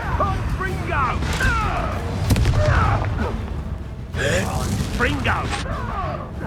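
A Confringo blasting spell detonates in the Hogwarts Legacy game, giving booming, crackling bursts. Two main blasts land a couple of seconds apart over a busy combat background, with voices heard in between.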